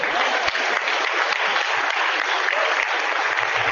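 A church congregation applauds while standing during a Spanish-language sermon on mercy. The clapping is dense and steady, fills the room and stays at even loudness throughout, with no one speaking over it.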